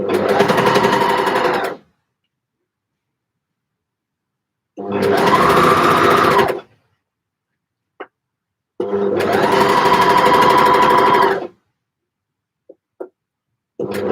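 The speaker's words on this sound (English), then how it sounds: "do not sew over your pins" A sewing machine stitches knit fabric in three sustained runs of about two seconds each, separated by pauses with a few faint clicks, loud and close with no talking.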